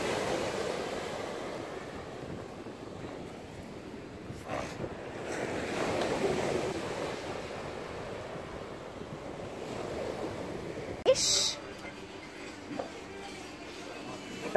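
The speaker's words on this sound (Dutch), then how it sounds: "Kijk, er komt nog een heel mooi golfje aan, mensen." Small ocean waves wash onto a beach on a calm, hazy day, a steady soft surf hiss at moderate distance with one brief louder splash, while voices occasionally speak.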